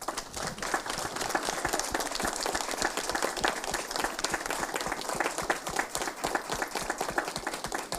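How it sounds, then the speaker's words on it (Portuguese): Sustained round of applause from an audience at the opening of a religious expo, dense steady clapping lasting throughout without a break, fairly loud and even, no speech over it. "Salva de palmas para a Mara."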